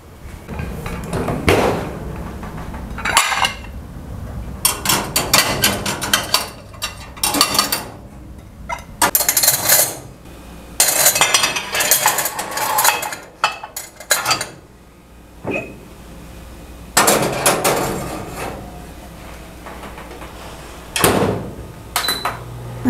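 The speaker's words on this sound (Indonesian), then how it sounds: "Sekarang aku naruhin piring ya." Washed plates are set into a kitchen rack, one after another, in a string of close ceramic clatters and clinks. Quiet pauses separate them over about twenty seconds.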